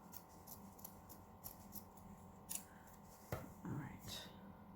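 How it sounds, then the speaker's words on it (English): Scissors, a general pair standing in for fabric scissors, snip through material while crafting a peacock glitter tumbler, giving a few quiet, separate cuts at close range over a low background hum. "Can't for the life of me find my fabric scissors, so these will have to do."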